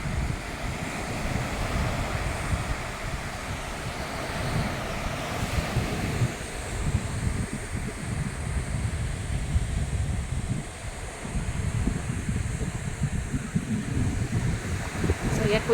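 Ocean waves roll onto a beach front in Calauag, Quezon, as a steady surf roar with strong wind buffeting the microphone throughout. The sound is continuous and fairly loud, with no clear speech.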